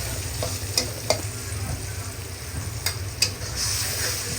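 Dried chillies hit a pan of frying ginger-garlic masala, setting off a loud, close, continuous sizzle with several sharp pops and spoon scrapes scattered through it, and no speech.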